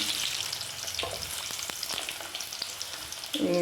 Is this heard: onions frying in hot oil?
yes